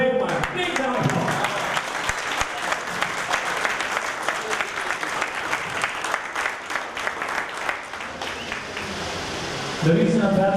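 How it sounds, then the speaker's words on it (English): Audience at a high school class reunion event breaking into sustained applause, dense clapping from a crowd that fills the room for about ten seconds, with voices mixed in beneath it. "Big round of applause."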